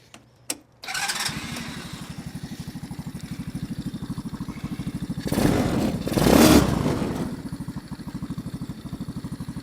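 Small 110cc engine on a Tao Motor Jeep go kart cranks and catches on choke, then settles into a loud, steady putter with a brief rev swell, heard close and alone.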